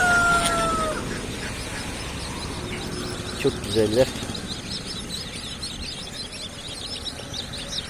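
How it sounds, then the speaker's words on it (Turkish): Ducks and chicks mixed together at a stall in a poultry market, small birds peeping and calling near the microphone amid market bustle, while someone talks briefly over them. "Ördekler, civciler karışık var burada arkadaşlar."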